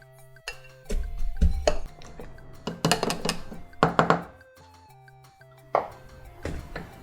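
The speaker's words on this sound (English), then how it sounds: "I'm just gonna put about 4 diced strawberries in my shaker tin, and then I'm gonna muddle them down" Diced strawberries are muddled in a metal shaker tin, giving a series of irregular dull thunks and clinks of the muddler striking the tin, close and distinct with quiet gaps between strikes.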